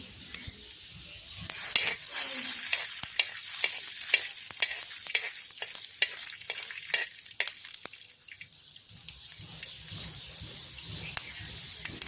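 Peanuts and coriander seeds frying in oil in a pan, with loud close sizzling and crackle broken by spoon scrapes and stirring clatter.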